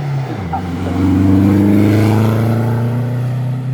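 Mercedes racing truck, an off-road truck, climbing a hill climb course past spectators, its engine roaring loud and close with a rising, sustained revving drone that holds steady throughout.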